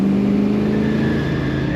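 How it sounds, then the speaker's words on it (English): A 1971 Chevrolet Corvette coupe with a 454 LS5 V8 drives with a steady, moderately loud exhaust drone, a low engine rumble that holds fairly constant throughout. "Not overly loud, possibly close to a factory sound for the exhaust coming out of this car."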